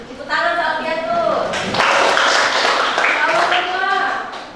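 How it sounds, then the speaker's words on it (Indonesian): Students in a classroom give a short burst of applause for a classmate, with voices speaking over and around the clapping before and after it. "Tepuk tangan untuk Alfiatul"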